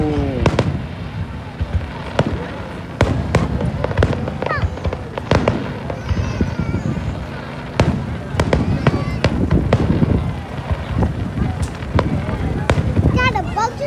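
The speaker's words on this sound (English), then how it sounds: "watching fireworks" Fourth of July fireworks at North Cape May burst in sharp, booming cracks at irregular intervals, some close and loud, others distant, with people talking and a voice among the crowd between blasts.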